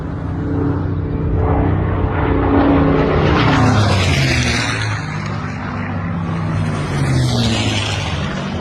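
An airplane flying overhead, a loud droning engine roar with shifting tones that swells and fades as it passes, steady throughout with no speech.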